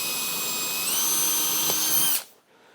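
A power drill whirs steadily at close range while drilling holes in wood, its pitch rising slightly as it bites, then stops abruptly, leaving quiet room tone.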